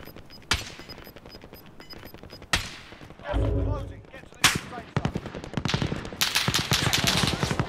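Rapid automatic gunfire and heavy explosive blasts from a Call of Duty Warzone match, loud bursts coming in quick clusters with a deep boom near the middle, while players talk over the action.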